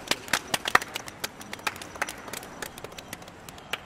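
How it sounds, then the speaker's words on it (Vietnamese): A small group gives a brief round of clapping, quick uneven claps close by at a modest level with no talk over them. "Anh em cho đại ca một tràng pháo tay đi nào."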